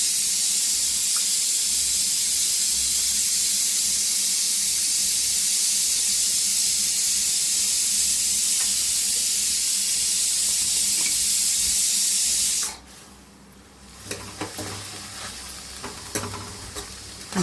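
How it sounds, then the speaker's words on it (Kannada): Turmeric powder and salt fry in a hot pan with a loud, continuous sizzle and hiss that cuts off abruptly near the end, followed by faint utensil clinks and scrapes in a quieter kitchen. "ಇದಕ್ಕೆ ಸ್ವಲ್ಪ ಅರಿಶಿನ ಪುಡಿ ಮತ್ತು ಉಪ್ಪು ಚೆನ್ನಾಗಿ ಹಾಕಿ ಫ್ರೈ ಮಾಡ್ಕೋಬೇಕು."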